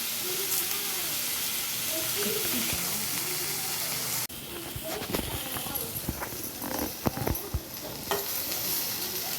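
Tomatoes frying with rock salt in a pan, a steady sizzle that shifts partway into busier stirring and scraping, with a voice talking over it.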